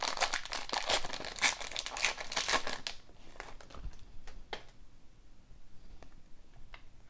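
A hockey trading card pack wrapper crinkles and tears open up close for about three seconds, then a few softer rustles and clicks of handling follow.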